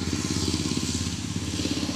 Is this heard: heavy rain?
no